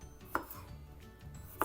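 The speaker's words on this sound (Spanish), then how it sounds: "Los voy a estar picando lo más chiquito posible." Knife chopping peeled garlic cloves finely on a cutting board, two sharp, distinct chops spaced over a second apart, close and clear against a quiet kitchen background.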